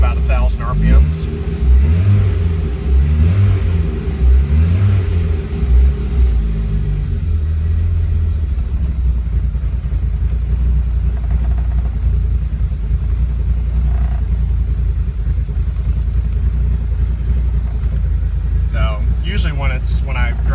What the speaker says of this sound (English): I have it running here on the rich side generally at idle.